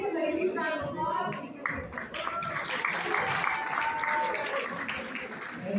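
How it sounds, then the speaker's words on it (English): An audience at a community iftar in Astoria, Queens, claps in a steady burst of applause, with a voice talking over the start. "So please give him a huge round of applause."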